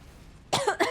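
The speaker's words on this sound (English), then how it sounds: "I'm coughing right when he attacks" Two quick, harsh coughs close to the microphone after a brief stretch of quiet background hiss.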